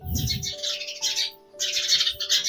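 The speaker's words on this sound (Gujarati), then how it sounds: "ચકલીને બચું છે" A sparrow chick gives a run of thin, high cheeping chirps, mostly steady with a short gap in the middle, close by over a faint background tone.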